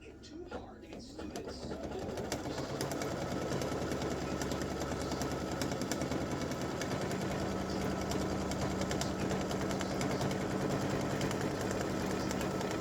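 A home embroidery machine stitches a tack-down on an in-the-hoop mug rug: a steady, fast mechanical whirring with a rapid needle rhythm, close and continuous after a brief start-up.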